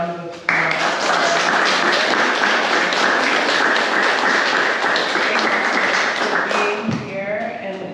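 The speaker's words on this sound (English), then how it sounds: "Let's have another round of applause." Sustained applause from an audience at a reading, steady dense clapping that fills the space, then tapers off toward the end.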